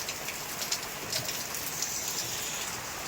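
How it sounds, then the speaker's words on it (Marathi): Heavy rain pours down steadily in a dense, hissing wash, with scattered louder drops spattering on a nearby surface. "काय पाऊस आहे, बापरे बापरे."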